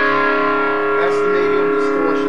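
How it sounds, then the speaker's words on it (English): An electric guitar with EMG pickups, on its rear pickup, plays through a Blackstar distortion pedal at a medium setting, sustained gritty chords ringing with a slight echo tail. "That's the medium distortion on the rear SA."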